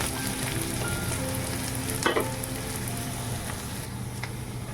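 Garlic, chili, turmeric and salt frying in hot oil with onions, a dense steady sizzle throughout, with one brief clatter partway through.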